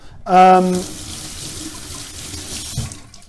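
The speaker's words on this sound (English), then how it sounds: "We're going to wash all of these, or rinse them all." Vegetables rinsed under a running kitchen tap for a hot sauce, with a brief tonal squeak as the faucet opens, then a steady close rush of water for a few seconds.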